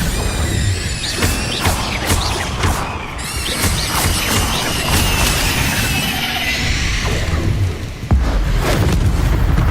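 Spell-casting combat in the video game Hogwarts Legacy, with the Incendio fire spell among dense, loud crashes, booms and whooshing bursts, layered effects packed across the whole stretch with a heavy thump near the end.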